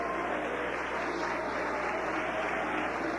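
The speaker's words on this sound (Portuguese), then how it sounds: "palmas bem alegre para o Senhor Jesus" Congregation in a church clapping together, a continuous even patter of many hands at moderate volume with a faint low hum beneath.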